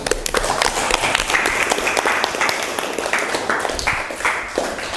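Students in an Islamic religious education class clap for a classmate, a short burst of scattered, brisk applause in a room that tapers off toward the end.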